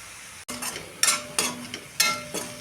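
A spoon stirs coriander paste and salt through cooked rice in a pan. It makes several scraping, slightly sizzling strokes at a steady pace, close and moderately loud, with no voice.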